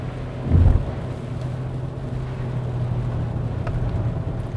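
A 2021 Hyundai Elantra driving in third gear on a wet road in rain, with a steady low engine and road drone and continuous tyre hiss, plus a brief louder bump near the start.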